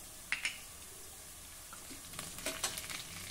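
Chopped onion and carrot sauté in a pan as they soften, a steady soft sizzle with occasional scraping stirs and light clinks of a spoon, close and without talking.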